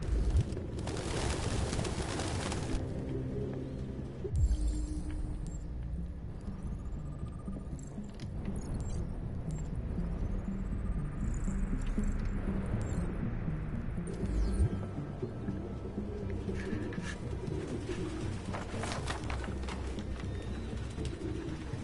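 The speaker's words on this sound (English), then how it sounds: "Oh shoot, that's like a lot of birds." A large flock of pigeons cooing in a video game, a dense, continuous murmur of soft coos and low hum filling the scene at moderate loudness, with no talk over it.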